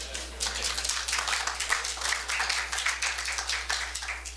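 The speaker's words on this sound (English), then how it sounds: "We should clap, right, for that." A small audience at a town meeting claps briefly, a thin patter of individual hand claps over a low steady hum in the room.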